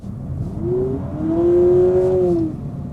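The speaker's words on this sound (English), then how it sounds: "It has a piped-in sound that changes based on the drive mode that you put it in. So I'll floor it." Engine sound piped into the cabin of a Honda Civic Hybrid under full throttle, rising as a steady whirring tone that climbs in pitch over a few seconds, moderately loud with no talking.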